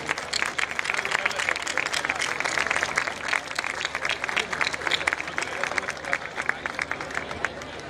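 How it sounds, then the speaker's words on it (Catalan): Steady, dense applause from a crowd at a Rótova town festival celebration, sustained throughout at moderate distance with no pause. "Un fort aplaudiment, per favor."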